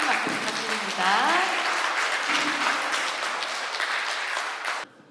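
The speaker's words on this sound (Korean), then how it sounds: "멋진 말씀 해주신 김하영 교사님께 다시 한번 큰 박수 부탁드립니다." An audience at a talk concert gives a loud, sustained round of applause for a teacher, with voices calling out over the clapping before it cuts off abruptly.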